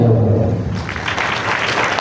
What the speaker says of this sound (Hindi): अपने तालियां बजाएं,